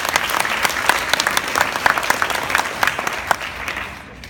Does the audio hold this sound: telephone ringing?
no